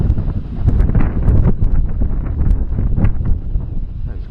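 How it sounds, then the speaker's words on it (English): Breezy wind on the River Adur riverbank rumbles and buffets the microphone in uneven gusts, a loud low roar with faint rustling and occasional light knocks mixed in. "It's quite windy now,"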